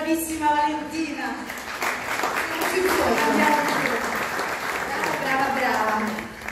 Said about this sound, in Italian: E ancora un applauso